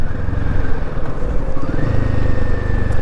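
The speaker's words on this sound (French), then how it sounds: "Même ici au ralenti, même à allure réduite et régime stabilisé, on a un petit moteur qui se fait remarquer." Royal Enfield Himalayan 450 single-cylinder motorcycle engine running at low, steady revs while riding slowly, a loud, close, throbbing pulse with a constant drone throughout.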